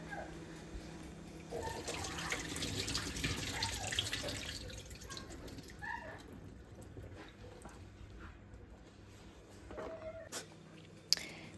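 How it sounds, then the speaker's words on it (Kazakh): Water is poured out of a jar of cucumbers being pickled through a special draining lid, a quiet trickle and splash that starts after a moment, then thins into scattered drips and a final small knock. "суын төгіп аламыз."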